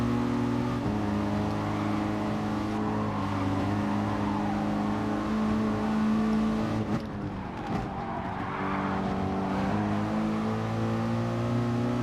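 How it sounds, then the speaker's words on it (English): Racing cars in a Gran Turismo Sport online FIA race, with a Volkswagen Beetle drifting out, give continuous loud engine drone with pitch shifts from revving and gear changes, plus a brief dip and scrub midway. "The Beetle drifting out, putting a very aggressive squeeze on Mr. Ro"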